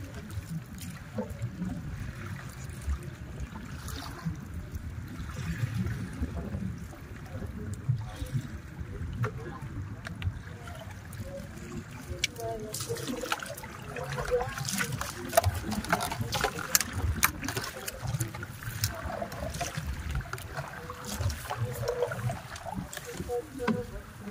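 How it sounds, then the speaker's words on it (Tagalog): A large boat's motor drones low as it passes across open water, with splashing and trickling water and faint voices in the background. "May dumaan na malaking bangka."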